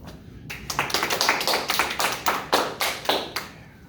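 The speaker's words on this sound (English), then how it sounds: "Clap for ourselves." A small group claps for itself, a few sharp, uneven bursts of hand claps, close and fairly quiet, with no talking over them.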